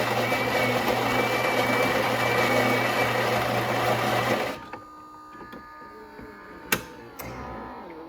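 A loud, steady mechanical whir and hum of a Green Giant A espresso machine running close by, which stops partway, leaving a quiet room with a few clicks.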